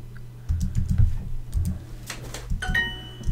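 Keys clatter on a computer keyboard in short uneven bursts of typing, close and clear, with brief pauses between runs.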